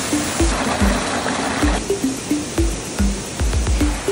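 A waterfall at Little Baguio Falls rushes in a dense, steady wash, with quick splashy pulses and a faint repeating chirp of birds or insects over the top.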